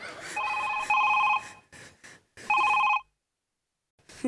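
A telephone in a comedy sketch rings in loud electronic bursts: three repeated rings separated by short gaps, then silence and a brief faint sound at the end.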